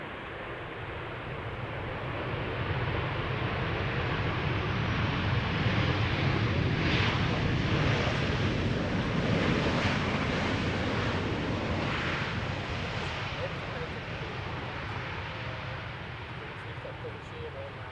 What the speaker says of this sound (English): First up, Transavia flight 5312, arriving from Corfu. 737-800, 5 years old